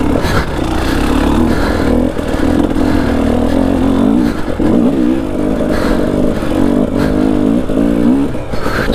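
A dirt bike engine revs hard while climbing a hill in a hare scramble race, loud and close, with a strained, wavering roar that rises and falls continuously, no voices.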